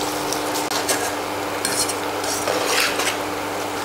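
Onion frying in a pan for a goat blood fry: a loud, steady sizzle close by, with occasional soft scrapes and stirs of a spoon. No one speaks.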